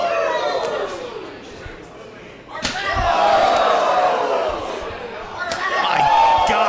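During a women's wrestling main event in Ybor, two sharp, loud knife-edge chops land a few seconds apart, and an arena crowd roars after each one.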